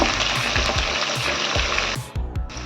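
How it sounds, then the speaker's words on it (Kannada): Onions and green chillies fry in a pan, with a loud, continuous sizzle and crackle broken by regular scraping stirs, dropping briefly near the end before resuming. "ಈರುಳ್ಳಿನ ಹಸಿಮೆಣಸಿನ್ಕಾಯಿ ಒಂದು ನಾಲ್ಕೈದು ಕಟ್ ಮಾಡಿ ಇಟ್ಕೊಂಡಿದ್ದೀನಿ ಮೆಣಸಿನ್ಕಾಯಿ ಹಾಕ್ಕೊಂಡು ಫ್ರೈ ಮಾಡ್ಕೊಂಡ್ಬಿಡೋಣ"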